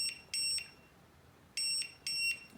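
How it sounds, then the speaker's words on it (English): A smartphone rings out loud electronic beeps from its find-device sound, two pairs of sharp, evenly spaced tones separated by a short pause, clear over a faint hiss with no talking. "your phone is going to beep so that you can find it"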